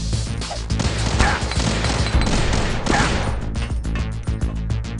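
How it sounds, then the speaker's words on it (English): Gunfire from the video game Metal Gear Solid: The Twin Snakes, a dense burst of rapid automatic shots and impacts, loud and close, continuing for several seconds with no talk. "And I shoot him right in the body armor."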